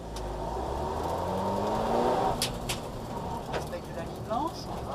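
A car on a track accelerates with a steady engine drone rising in pitch, while a coach's voice talks over it and a few brief sharp noises cut through.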